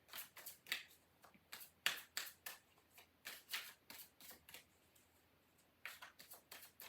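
A tarot deck being shuffled by hand, soft close riffling in quick bursts with brief pauses in between, no talking.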